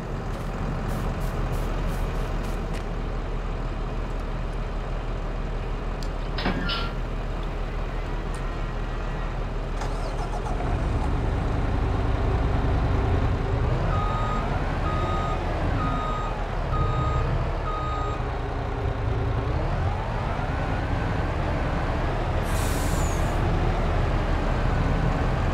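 A truck backs up near a farm in the Farming Simulator 22 video game, its reversing alarm beeping in regular short pulses over a steady engine rumble, with a brief hiss partway through.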